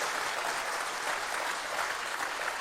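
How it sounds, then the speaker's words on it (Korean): Steady, dense applause from a large audience at a national gathering of reserve military chaplains and missionaries, continuous and fairly even throughout with no voices. "And let us give a round of applause for this image."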